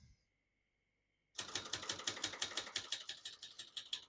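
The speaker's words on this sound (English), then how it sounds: "We're going to keep that on single for now and finish typing." Typing on a 1970 Brother Pro Line 709 portable typewriter: after about a second of silence, a fast, steady run of close, crisp key strikes rattles on without a break.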